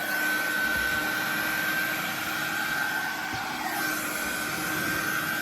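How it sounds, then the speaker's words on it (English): A Karcher window vac running while cleaning a window, a steady, fairly quiet electric whine with a thin high tone and an even airy hiss throughout, with no voices. "Then the Karcher window vac."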